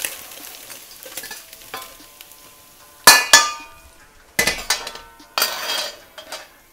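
Fried pork ribs for sweet and sour ribs tipped out of a wok, with a couple of sharp metallic clatters and scrapes against a soft background sizzle, close and fairly loud in bursts.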